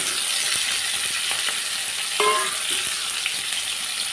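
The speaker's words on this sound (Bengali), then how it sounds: "তেলটা গরম হয়ে গেছে, এখন আমি এর মধ্যে চাল কুমড়া টুকরোগুলো দিয়ে দিচ্ছি।" Pieces of ash gourd sizzle steadily in hot mustard oil, a loud continuous fry with a few soft clinks and a brief stir partway through; no talking.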